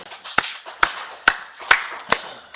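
Sharp, separate claps from a church congregation during Sunday worship, five or six evenly spaced strikes close by with short pauses between them.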